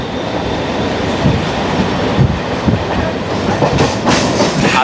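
A Mumbai local train runs through Vidyavihar station without stopping, filling the space with a loud, continuous rumble, rhythmic wheel clatter and faint metallic squeals, heard from close range aboard the train.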